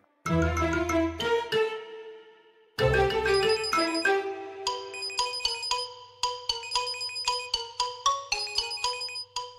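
A phone ringtone plays loudly and alone, a melodic electronic tune of bright repeated chiming notes that restarts after a brief pause.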